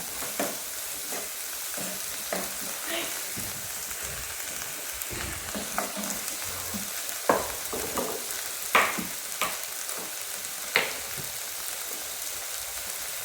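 Onions and tomatoes sauté with salt in a pan, giving a continuous close sizzle. Scattered stirring taps and clicks rise above it, with no voices.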